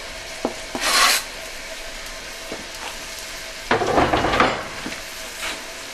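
Cooked onions and garlic sautéing in a pan: a faint background sizzle with a few sharp scraping stir strokes, a louder burst of stirring in the second half, no talking.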